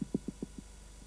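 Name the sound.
mole rat thumping underground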